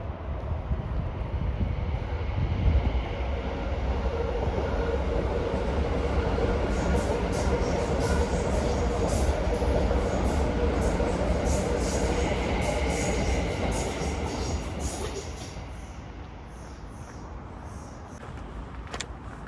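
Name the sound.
subway metro train arriving and running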